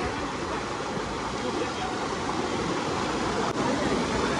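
Rushing water from a swollen monsoon stream or waterfall flowing under heavy pressure makes a loud, unbroken broadband roar that stays steady and close throughout.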